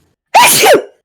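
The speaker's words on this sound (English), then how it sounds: "What an explosive Sorry. sneeze!" A single loud, explosive sneeze, close and alone, with a sharp sudden onset and about half a second of sound before it trails off.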